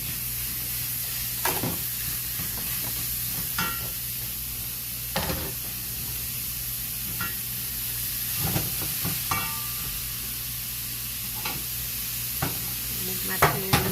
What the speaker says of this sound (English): And then we're going to add our hamburger.